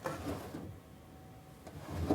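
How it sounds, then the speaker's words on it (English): Wooden drawers of a refurbished cabinet sliding open, a couple of short soft scraping rubs close by, with quiet room tone between. "Can I see if the drawers open?"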